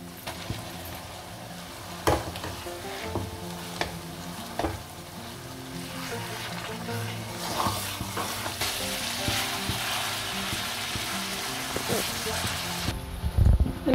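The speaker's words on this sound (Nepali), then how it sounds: "अब मैले किमा राख्न लागि छु।" Green chilies and minced chicken fry in a pan for Tibetan syafalee, giving a steady close sizzle with occasional stirring clatter, while someone speaks over the cooking.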